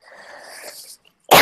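A single sharp, loud sneeze bursts out at the very end during a group meeting, after a quiet stretch of faint low sound.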